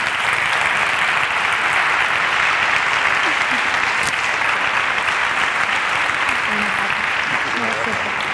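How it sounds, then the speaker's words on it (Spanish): Sustained audience applause at a jornada event in Spain, a dense, steady wash of many hands clapping at even loudness throughout, with faint voices mixed underneath. "Un aplauso."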